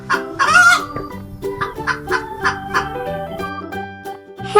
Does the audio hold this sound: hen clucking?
yes